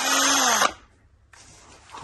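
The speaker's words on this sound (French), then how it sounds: "On dévisse tout le côté." Power screwdriver backing screws out of the side panel of a Bluetran Lightning electric scooter, a short loud whirring burst that cuts off, a pause, then a fainter rustle of handling.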